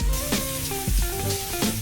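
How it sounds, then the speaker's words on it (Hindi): Chopped onions sizzle and fry in a pan for dhaba-style paneer bhuna masala, a close, continuous crackle broken by a few stirring scrapes, with no talking. "अब इस प्याज को अच्छे से भून लेंगे जब तक ये गोल्डन नहीं हो जाता।"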